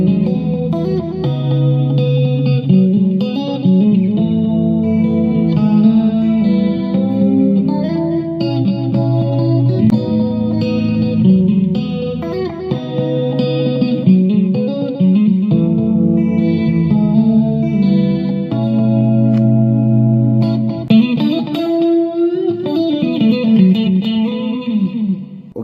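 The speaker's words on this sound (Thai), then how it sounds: "ต่อไปก็จะมีแบบพวก เสียงคอรัส รีเวิร์บอะไรเข้ามาบ้างนะฮะ" Shimmering electric guitar chords and melodic lines played through a Marshall Kilburn II Bluetooth speaker ring out, washed in chorus and reverb, played steadily and loud with sustained, swirling tones.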